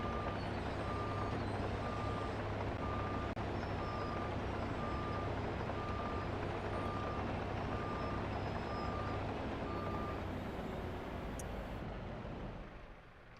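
A dump truck in Farming Simulator 25 backs up with steady, evenly spaced reversing beeps. They sound over a constant engine drone and broadband hiss, and there is no talk.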